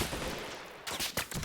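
A unit in the video game Army Men: Plastic Wars fires its weapon: a few faint, quick bursts of gunfire after a quieter stretch.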